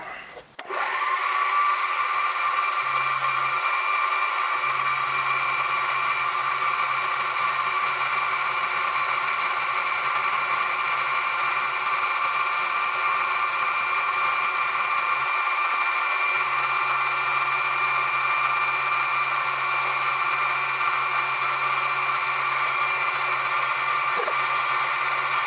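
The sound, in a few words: power tool with chamfer bit cutting a chamfer on a part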